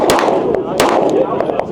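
A 2011-style double-stack 9mm pistol fires at SHOT Show: a few sharp, loud reports in quick succession, close by, with echoing reverb and background chatter.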